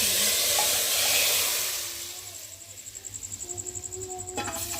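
Hot oil hisses and sizzles steadily up close, with a brief sharp crackle near the end as tempering spices hit the pan for moong masoor dal.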